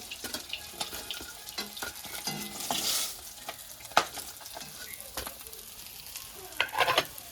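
Mrigal fish frying in hot oil in a pan, a close crackling sizzle broken by sharp pops and scraping stirs, with a louder hiss burst partway through.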